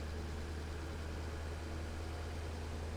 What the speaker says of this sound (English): Okay, I'm gonna drive the tractor all the way back to base.